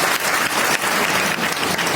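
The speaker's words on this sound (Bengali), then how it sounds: "ওদের জন্য সবাইকে হাততালি দেই" An audience claps for public university students seated on a stage, a short, loud, steady burst of dense applause from many people, with no speech over it.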